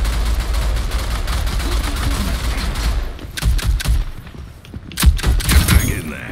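Rapid gunfire from a Rogue Company match, with dense bursts of automatic fire throughout, a brief lull near the middle, then sharp loud shots and impacts resuming close by.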